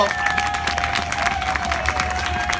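A crowd claps steadily for a jazz musician being introduced on stage, a continuous wash of hand claps at moderate level with a faint sustained tone running underneath.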